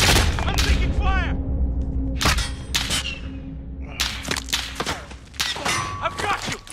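Gunfire in the 2019 Call of Duty: Modern Warfare, with sharp shots and bursts scattered through the clip under a steady game ambience, mixed with shouted voices during combat.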